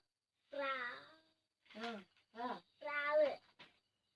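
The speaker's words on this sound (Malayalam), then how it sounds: "പൂച്ച" A cat meows four times in close succession: one long drawn-out call followed by three shorter ones, loud and near in an otherwise quiet room.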